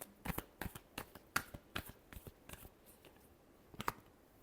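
Tarot cards are shuffled close by in a series of crisp, sharp riffling slaps, about a dozen quick flicks at irregular intervals, quiet and alone without talk.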